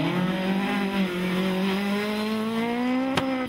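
A Ford Escort rally car drives a promenade stage, its engine revving hard with rising harmonics as it accelerates through traffic islands. A brief sharp burst near the end stands out against the loud, close engine note.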